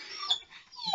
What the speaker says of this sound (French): Je suis désolée pour le chien.